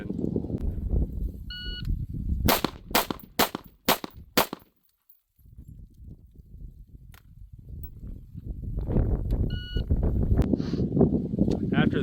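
Five sharp, loud patrol rifle shots ring out in quick succession during a timed chest-target drill with a SWAT instructor, with someone talking before and after the volley.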